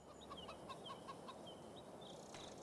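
Chickens cluck in Farming Simulator 25, a quick run of soft, fairly faint clucks followed by a couple of scattered calls over a quiet farmyard background.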